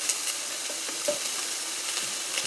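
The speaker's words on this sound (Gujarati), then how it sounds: "પનીર એમાં નાખી દેવાનું છે કઢાઈની અંદર. ઘીમાં અંદર" Paneer frying in ghee in a small kadai, a steady close sizzle with faint stirring scrapes throughout and no talk.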